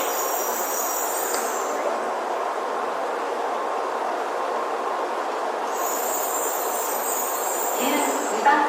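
Tokaido Shinkansen Kodama train running, heard from inside as a smooth, steady rumble and hum with a faint high whine at the start and near the end.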